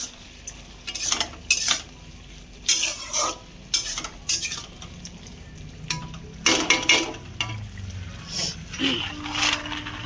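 Fried spices tipped into greens in a pan, with repeated bursts of metal spoon scraping and clinking against the pan over a low background sizzle.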